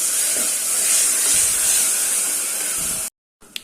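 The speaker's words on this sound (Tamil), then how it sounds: "இப்போ நம்ம இந்த அரைச்ச அந்த விழுதை சேர்த்துடலாம் இது நல்லா வதக்கி விட்டுக்கலாம்" Ground masala paste sautéing in a pan, a loud, steady close hiss of steam and sizzle that cuts off abruptly, followed by a brief clink.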